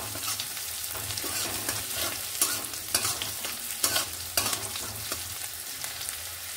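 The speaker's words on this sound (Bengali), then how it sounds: "আর এর সঙ্গে দিয়ে নিচ্ছি আদা ও রসুন কুচি। এইভাবে নেড়ে নিচ্ছি কয়েক সেকেন্ড।" Chopped chili, ginger and garlic stirred in hot oil in a pan, a constant close sizzle punctuated by soft repeated scrapes of the spatula, with no talking.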